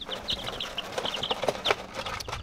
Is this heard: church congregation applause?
no